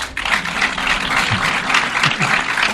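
A TV quiz show studio audience claps for the panelists, a continuous ripple of hand claps with a few low thumps mixed in, fairly loud and close, with no speech.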